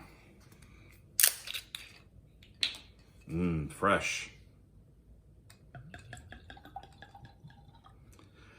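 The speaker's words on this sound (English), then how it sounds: "So I'm going to evaluate a glass of wine, and I'm going to pour one right now." Wine poured from a bottle into a glass: a short run of glugging and splashing in the middle, set between a few clinks and taps, with a brief word spoken nearby.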